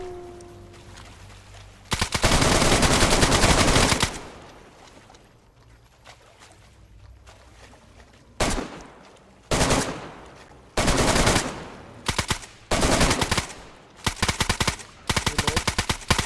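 Long bursts of automatic machine gun fire in the survival game DayZ, loud and close, with pauses between sustained volleys and shorter rapid bursts toward the end.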